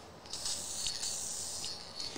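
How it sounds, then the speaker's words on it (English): Quiet, steady hiss of an aerosol spray can misting lacquer, with a few brief bursts and pauses. "But when you spray it"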